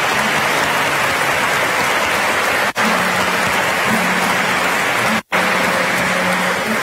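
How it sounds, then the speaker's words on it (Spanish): Sustained loud applause from a congregation at a priestly ordination ceremony in Willemstad, Curaçao, a steady dense clatter of clapping hands lasting the whole stretch, broken by two brief dropouts. "Fuerte aplauso para Nan también."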